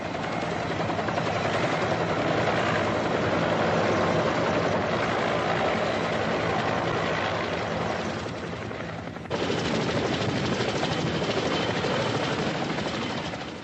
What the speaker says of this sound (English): the helicopters can now only land on the embassy roof or in its secluded compound